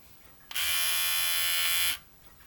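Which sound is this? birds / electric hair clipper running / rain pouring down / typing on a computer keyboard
electric hair clipper running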